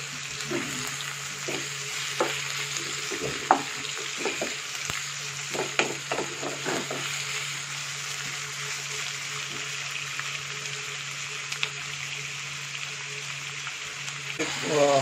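Onions frying with salt in a pan for chicken biriyani sizzle steadily at close range, with scattered stirring clinks and scrapes in the first half and a constant crackling hiss throughout.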